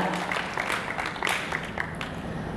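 Scattered audience applause at a tourism summit, a steady patter of clapping hands that holds evenly for a few seconds without voices over it.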